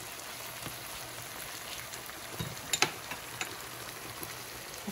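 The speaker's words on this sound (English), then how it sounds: "Also, I will add 1 tablespoon of minced garlic. And let's just saute." Minced garlic sautés in a pan for cavatelli with shiitake mushrooms, giving a soft, steady sizzle with a few sharper pops and spatters partway through and no talk.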